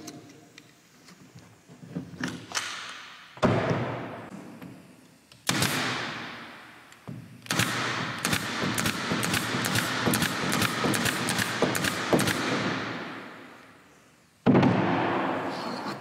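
A Cadex 23 gauge pin nailer drives 2-inch nails, heard as a string of sharp, close pneumatic pops and bursts, several widely spaced and then a rapid run of shots, each with a short hissing tail.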